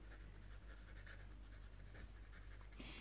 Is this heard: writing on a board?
yes